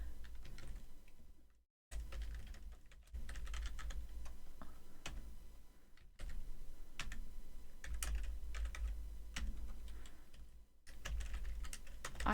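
Rapid keyboard typing on a computer keyboard during a livestreamed game randomizer setup session, a steady run of close, crisp clicks with brief pauses, heard alone without talk over a low hum.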